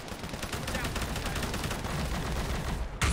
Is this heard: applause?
no